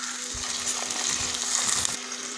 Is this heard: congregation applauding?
no